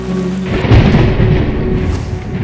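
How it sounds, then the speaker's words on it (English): Heavy rain pours down steadily in a dense, loud wash, with a deep rumble of thunder rolling in partway through and staying low under the downpour. "it's raining, it's absolutely pouring down."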